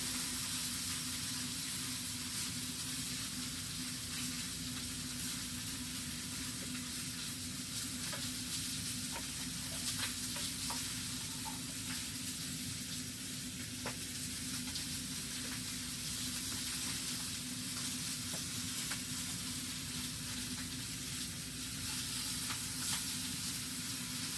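Mediterranean pork chops sizzle and crackle steadily in a hot pan, a faint continuous frying hiss with occasional pops and no talking.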